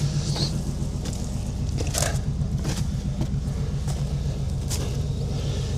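Off-road vehicles winching up rocks on a rock-crawling trail, a heavy continuous low engine rumble close by with intermittent crunching and knocking bursts over it.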